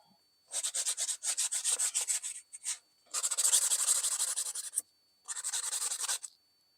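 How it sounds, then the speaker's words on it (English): Hand sanding on a small knife build produces rapid rhythmic back-and-forth rasping in three close, loud bursts separated by short pauses, with no talking. "so I'm going to hand sand this now"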